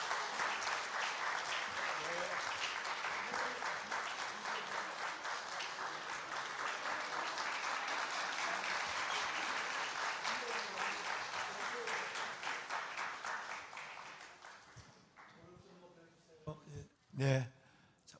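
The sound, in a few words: applause welcoming children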